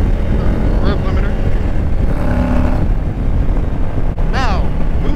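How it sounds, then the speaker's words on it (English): A 2021 Harley-Davidson Low Rider S motorcycle engine revs hard on the road, with loud engine roar and wind buffeting and a rising, choppy burst near the end as it hits the rev limiter. "Oh, yep, rev limiter."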